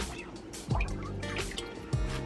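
Water drips and trickles in a sink while collard greens are washed, with a few distinct splashy plops over a quiet background.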